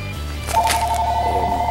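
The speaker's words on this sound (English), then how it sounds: "No, I'm not going to answer my phone." A phone rings with a steady electronic ringtone that starts about a third of the way in and holds a clear repeating tone to the end, over a low background hum.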